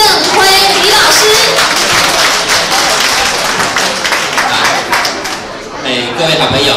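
An audience at a farmers' market carnival results presentation applauds to welcome the founder of a farmers' association, a dense, sustained roar of clapping mixed with crowd chatter and some talking throughout.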